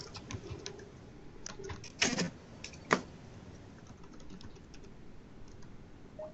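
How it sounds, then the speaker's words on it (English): Computer keyboard typing in a quiet room, a run of soft, irregular key clicks with a few louder, sharper strikes partway through, close and alone with no talking. "I'm typing it."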